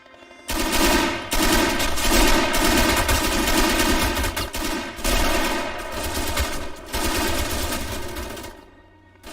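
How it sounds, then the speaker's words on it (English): Sustained enemy machine gun fire in Red Orchestra, loud rapid automatic bursts with short gaps, nearly continuous and heard alone without talk. "Watch out, there's enemy MG."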